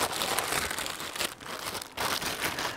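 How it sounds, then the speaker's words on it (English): Plastic wrapping crinkles and tears steadily as individually wrapped Clarke magnetic metal tool trays are unwrapped in a DIY workshop, a close, continuous rustle with brief pauses and no talk. "Right, let's unwrap them all up."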